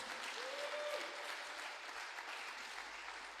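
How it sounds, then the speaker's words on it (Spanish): A church congregation applauds at a service, dense steady clapping heard at a quiet, distant level throughout, with a faint voice briefly over it early on. "Denle un aplauso a Dios"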